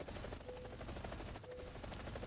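Rapid aircraft nose cannon fire in a combat flight video game, a dense continuous stream of shots at a very high fire rate, loud and steady throughout with no talking.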